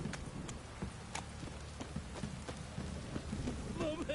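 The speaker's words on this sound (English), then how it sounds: "This downpour's a bastard, it is." A downpour in The Witcher 3 gives a continuous rain hiss with clip-clopping hooves running through it and a brief voice near the end.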